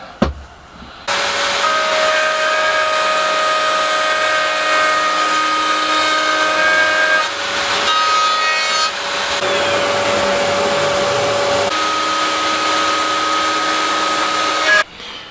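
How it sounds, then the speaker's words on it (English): Router on a router table cutting through wood: a steady, loud high-pitched whine with a tonal hum, sustained for about fourteen seconds with a couple of brief dips in load, starting abruptly after a short quiet moment and cutting off at the end. "I need to now run that through the router."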